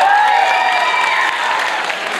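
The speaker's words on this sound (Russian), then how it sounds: "Зрители могут поддержать вас аплодисментами." Applause from an audience at a televised talent contest in a cultural centre hall, dense steady clapping filling the space for a couple of seconds, loud and close.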